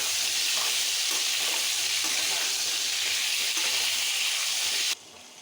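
Potatoes frying in a pan with turmeric and salt give a loud, steady broadband sizzle that runs unbroken for about five seconds and then drops off sharply near the end.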